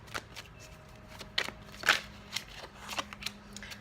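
Tarot cards shuffled by hand at close range, a series of soft riffling snaps and crisp flicks at irregular intervals over a quiet room, with no talking.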